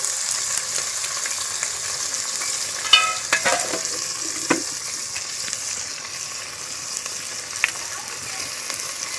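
Village okra is stirred and fried in a pan on a traditional clay stove, steady sizzling with scattered scraping and stirring clicks throughout.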